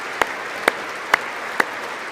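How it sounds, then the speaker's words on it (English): Four loud, evenly spaced claps hit close to a microphone, standing out sharply over a faint wash of distant crowd applause. "Who's clapping right into their fucking microphone?"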